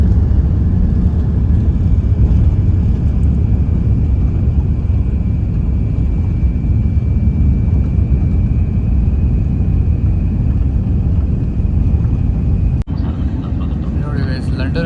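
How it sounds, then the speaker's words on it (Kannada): An airplane taxis toward the runway for takeoff at a London airport in heavy rain, its engines giving a loud, steady rumble throughout, broken by a single sharp click near the end. "ರನ್ವೇಗೆ ಹೋಗಿ ಟೇಕ್ ಆಫ್ ಆಗುತ್ತೆ ಇವಾಗ."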